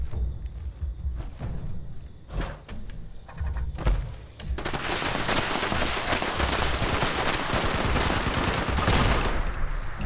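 Sustained turret machine-gun fire in Fallout 76, with sparse thuds and shots at first, then a dense, loud, continuous burst of rapid gunfire that fills the rest of the clip.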